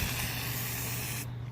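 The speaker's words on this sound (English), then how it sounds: "it'll even come out like it's like a shooting spray" An aerosol spray can shoots paint in one continuous, loud hiss that holds steady, then cuts off abruptly near the end, during restoration of an EF Civic sedan.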